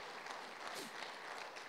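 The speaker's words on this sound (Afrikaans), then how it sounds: "gee net vir die Here hande klap vir dit wat hy al vir jou gedoen het" A church congregation claps hands together in a steady, dense patter, somewhat distant and soft, with no clear voices over it.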